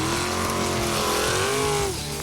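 Off-road vehicle revving hard while stuck in sand, a loud continuous engine roar with rising pitch that drops off at the end, close up.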